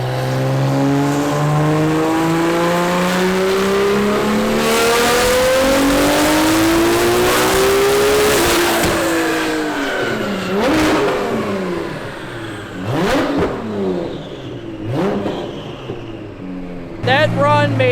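A Nissan GT-R on a dyno revs hard, its engine pitch climbing steadily through the gears before dropping away, with sharp bangs and pops as the run winds down.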